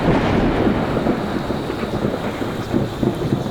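Thunder cracks and rumbles during a stormy night, a deep rolling boom layered over steady rain noise, loud and continuous with no voices.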